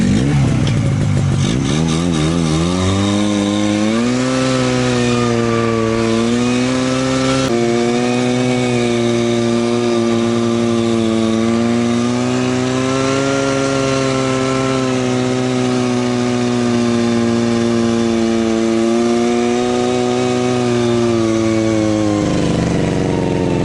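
A Buran snowmobile fitted with a Safari variator and a new belt, stuck in snow, revs its engine hard in a loud, sustained, droning whine that holds for the whole stretch, with no talking.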